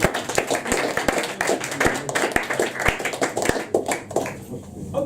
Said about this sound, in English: So more applause,